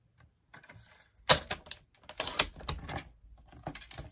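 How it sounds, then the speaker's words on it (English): Paper trimmer slicing paper for a Stampin' Up! card project, with a few sharp close clacks and scraping blade passes in short irregular bursts, and no talking. "I love this paper trimmer."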